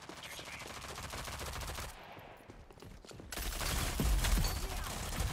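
Video game gunfire crackles in rapid bursts, with a brief lull before the shots come back louder and heavier, and no speech is heard.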